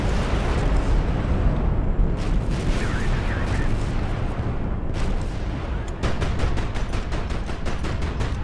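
57mm anti-missile guns in the Highfleet video game fire in a rapid, evenly spaced volley of booming shots over a constant roar of explosions and battle rumble, with a voice talking underneath.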